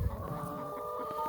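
Hens cluck softly at close range over a steady tonal background hum, with a brief low thump near the start.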